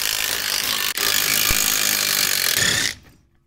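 An impact wrench hammers at 12 mm hub bolts on a Hyundai Ioniq rear hub in one loud, continuous buzzing rattle. It stops sharply near the end, with no voices.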